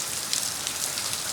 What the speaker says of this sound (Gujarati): મમ્મી શું પડે ખતરનાક વરસાદ પડે